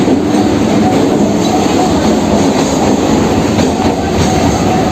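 Kolkata Circular Rail local train running on a nearly empty weekend trip, a loud, constant rumble of wheels and carriage with faint rhythmic clatter and light squeal, heard from inside and with no voices.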